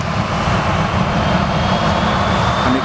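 An airplane taking off at Manchester Airport, a loud, steady engine roar close by that holds at full power throughout, with no voices.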